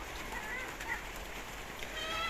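Eight Chinese ducks raised without bathing water give faint, scattered honking calls against steady background noise on a small farm.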